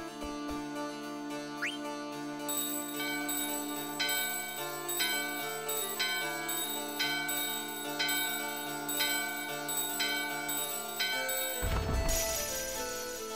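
Bell in the video game Final Fantasy IX, repeated bright metallic strikes in a steady rhythm over a sustained musical drone, ringing on for several seconds before a sudden noisy shift at the end.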